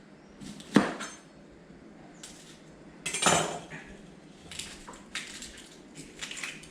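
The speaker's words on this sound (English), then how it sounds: "So to start off, cut one little red onion." A small red onion being cut with a knife on a board gives a few sharp, close chops and crunchy slices spaced irregularly, with soft handling clatter in between.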